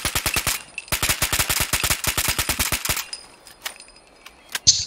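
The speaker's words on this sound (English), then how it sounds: "see how I started shooting again before it reloaded?" An automatic weapon in Fallout 76 fires two rapid, loud bursts of evenly spaced shots over about three seconds, followed by a few scattered, fainter clicks and one sharp final report.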